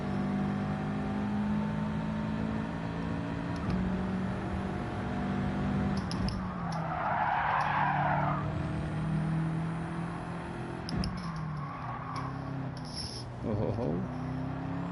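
Car engine revving in Gran Turismo 7, a steady game engine drone with a louder swelling rev in the middle, mixed under a person talking over the gameplay.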